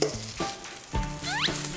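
Kimchi rice frying in a pan as a scorched crust forms, with soft crackling sizzles and stirring scrapes in short bursts, plus a rising squeak near the end; close and moderately loud, with no talking.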